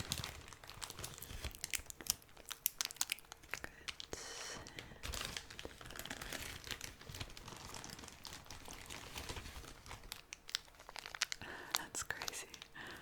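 Plastic packaging crinkles and crackles close up as mood rings are pulled free, with dense irregular rustles and tearing throughout and soft speech mixed in.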